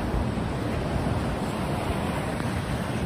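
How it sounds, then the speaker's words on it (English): Ocean waves wash and rumble inside a sea cave on the Oregon coast, a steady broadband roar close by with wind-like hiss and no voices. "Ocean."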